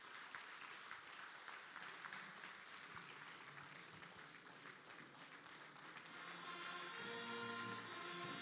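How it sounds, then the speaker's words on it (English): Audience applause for the President at the closing ceremony of a 2023 cabinet retreat, steady dense clapping throughout that swells slightly louder near the end, fairly distant with no talk over it. "thank Mr. President for believing in this process of the Cabinet Retreat 2023 from inception to execution with a Cabinet Retreat round of applause"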